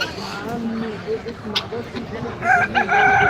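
A rooster crows at a crowded native-chicken market in Saudi Arabia amid busy background chatter and crowd noise, with other chickens clucking nearby.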